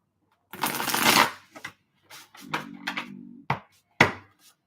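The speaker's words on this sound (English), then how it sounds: "I usually split it in half, and then I shuffle them." A large deck of reading cards being shuffled in split halves, giving a few crisp riffling bursts and soft taps close to the microphone, with brief quiet gaps between them.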